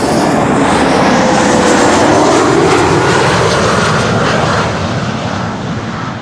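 An Embraer 190 jet from German Airways arriving at Amsterdam Schiphol Airport, a loud, broad engine roar sweeping past close by and easing slightly toward the end.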